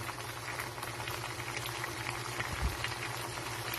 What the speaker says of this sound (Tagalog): hayaan po muna natin na kumulo at lumambot ang ating repolyo